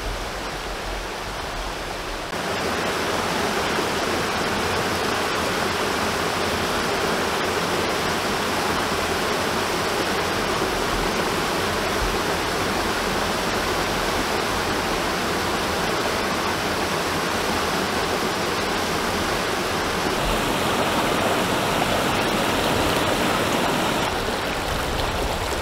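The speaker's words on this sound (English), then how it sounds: "Just coming up to the big kind of the main waterfall" Main waterfall on the Burn Deele river, a loud, steady rushing roar of falling water that swells after the first couple of seconds and holds constant, with no voices.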